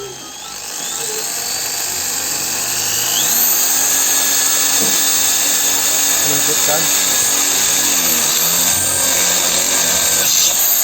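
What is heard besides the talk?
power drill drilling holes in motorcycle exhaust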